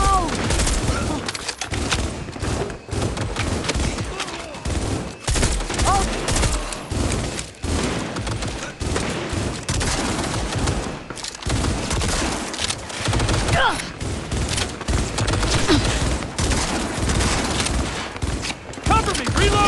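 Dense, continuous gunfire from the video game Cyberpunk 2077, with rapid automatic bursts and booming shots filling the whole stretch at a loud, steady level and a voice shouting over the firefight.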